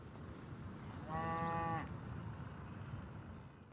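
A young steer gives a single loud, drawn-out moo lasting under a second, set against a constant low outdoor rumble of a cattle farm, with a faint bleat-like call afterward.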